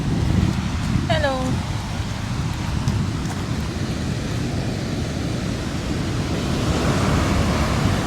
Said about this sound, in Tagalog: Ang sungit ng dagat,